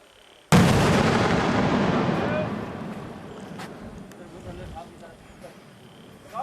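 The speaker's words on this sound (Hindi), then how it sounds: "आग निकली देखिए, मतलब फट चुका था वो" A 51mm mortar firing during CRPF training at RTC 4 Srinagar, one sudden loud boom followed by a long rumbling decay of several seconds, heard outdoors with voices in the background.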